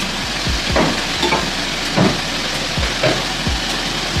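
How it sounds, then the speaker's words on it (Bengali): Potatoes sizzle steadily in a frying pan, with regular soft scraping stirs every half second or so, close and fairly loud, with no voices. "আলুটা ভাজা হোক"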